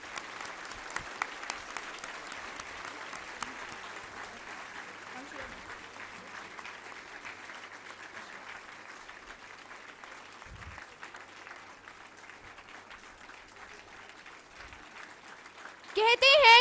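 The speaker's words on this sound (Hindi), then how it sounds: "तालियां बजती रहनी चाहिए।" A large crowd at the launch of the Shaheed Bhagat Singh Armed Forces Preparatory School applauds continuously as officials are called on stage, the even clapping running for over fifteen seconds before a louder voice cuts in at the end.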